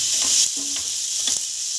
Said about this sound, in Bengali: বড় বড় দুটো পেঁয়াজ কেটে রেখেছিলাম, ওইটা ভাজবো